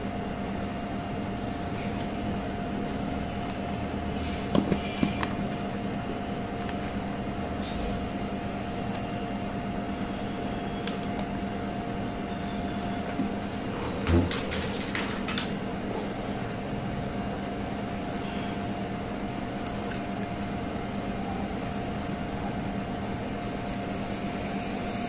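A small 12-volt DC motor runs steadily as the load on a homemade MOSFET speed controller circuit powered from a bench supply, producing a constant faint whine and hum with a few small clicks.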